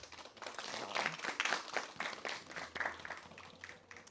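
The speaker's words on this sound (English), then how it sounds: "give yourselves a round of applause for that" Audience applause at a science talk, modest and uneven clapping at a moderate distance, swelling and fading in loose waves over a few seconds.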